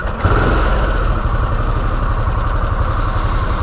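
A Harley-Davidson Sportster S motorcycle with the RevMax engine idles in neutral, a loud, close, steady low throbbing with a fast, even pulse that carries on alone throughout.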